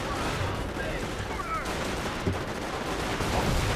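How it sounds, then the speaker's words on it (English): Austere sniper rifle shots in the Company of Heroes Eastern Front strategy game, a sharp crack standing out around the middle amid a steady wash of battle noise and distant gunfire. "That 10th shot, two double shot thing from the Austere sniper is slightly ridiculous"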